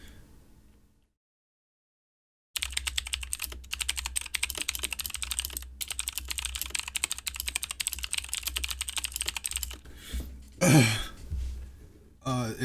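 Fast, steady clacking of a mechanical keyboard being typed on up close, starting after a short silence, with a brief throat-clearing sound near the end.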